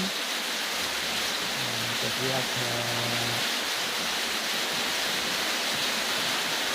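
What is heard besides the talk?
heavy rain falling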